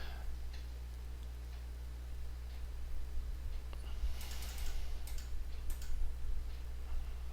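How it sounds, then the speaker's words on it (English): Fast, light keystrokes on a computer keyboard, scattered irregular clicks growing denser toward the end over a steady low hum, with no talking. "I'm typing C's now into water content"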